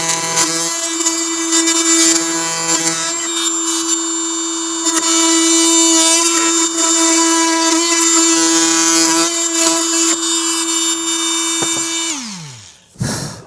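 Flex oscillating multi-tool with a brand-new blade cutting steadily, giving a loud, high, tonal buzz with a constant whine that shifts slightly under load, then winding down abruptly at the end.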